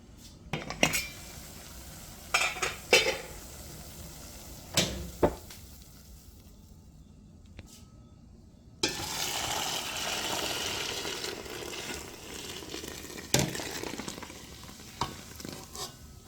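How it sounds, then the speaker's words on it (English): Boiling water poured into a pot of sorrel with pimento berries and spices, preceded by a few sharp clinks and knocks of kitchenware, then a steady rushing pour lasting several seconds, close and without talk. "Then I'm gonna go ahead and add my boiling water to the pot."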